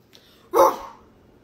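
A dog gives a single short, sharp bark, close and loud, with near silence before and after.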